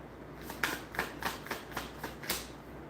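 Tarot cards being shuffled by hand in a series of short, crisp riffles and taps at an uneven rhythm, close and fairly quiet, with no talking.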